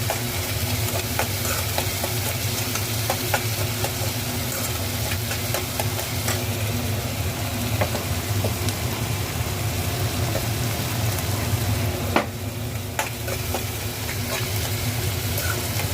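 Onion frying in a pan with garlic and green chili paste (thecha), a steady close sizzle with scraping stir strokes throughout and one sharper clatter near the end.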